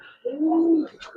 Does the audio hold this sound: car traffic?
no